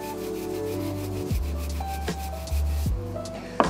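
A coarse shoe-cleaning brush scrubs a shoe in steady back-and-forth strokes, a loud, rough, raspy rubbing heard close up with no talking.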